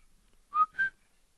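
A person whistles a word's tonal pattern during a Defaka language word-list recording, giving two short, clear notes, a lower one and then a higher one, in a quiet room with no speech.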